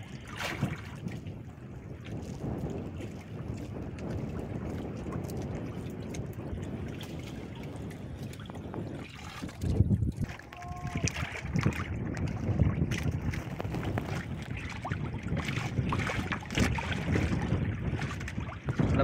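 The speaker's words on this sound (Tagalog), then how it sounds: "Yung hangin lang yung kuha natin" Wind roars steadily across the open sea around a small fishing boat, a broad rushing noise with gusts and water sounds, continuous throughout and no voices.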